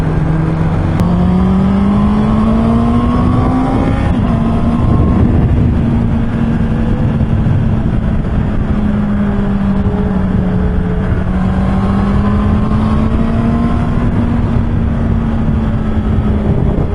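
Honda CB650R motorcycle engine revving and pulling hard through its low-end, a loud, close, steady inline-four drone whose pitch rises, dips and climbs again in waves across the whole stretch, with no talk.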